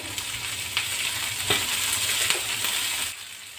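Oil sizzles in a pan with tomato, mint and coriander chutney ingredients frying, a soft continuous hiss with a few light clinks and stirring scrapes, fairly quiet and without voices.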